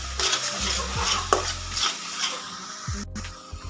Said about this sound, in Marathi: सर्व मसाले आपल्याला याच्यामध्ये घालून घ्यायचे, तर ते पण त्याच्यामध्ये मिक्स करून घेऊया